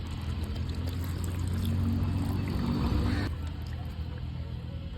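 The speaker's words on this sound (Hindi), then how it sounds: "लगभग 100 ml के आसपास पानी ऐड कर देते हैं इसमें।" About 100 ml of water poured into paneer butter masala gravy on a kitchen stove, giving a continuous close hiss and gurgle that swells midway, then cuts off into a quieter sizzle.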